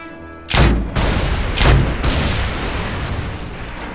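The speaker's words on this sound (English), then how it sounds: "Is that grenades?" Grenade explosions and gunfire in the video game Mercenaries 2: World in Flames, two loud booming blasts a second apart followed by a sustained crackling rumble of fire.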